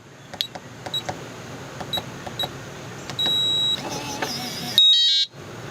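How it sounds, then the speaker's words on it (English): A series of short electronic beeps and clicks from an RV camper's keyless entry keypad, ending in a longer sustained tone as the lock releases. "You hear the tone, it's unlocked."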